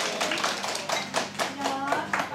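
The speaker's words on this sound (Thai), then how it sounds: "ปรบมือ" A small group clapping hands during a school interview gathering, a loose run of distinct, close claps with uneven rhythm and faint voices underneath.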